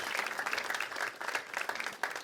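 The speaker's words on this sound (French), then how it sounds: "Est-ce qu'on peut l'applaudir?" A church congregation applauding, dense and even clapping from many people that carries on steadily throughout.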